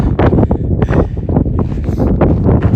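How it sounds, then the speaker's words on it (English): Strong gusting wind at Black Canyon buffets the microphone, producing loud, irregular low roaring bursts that swell and fade throughout. "I forgot to mention how windy it is out here today."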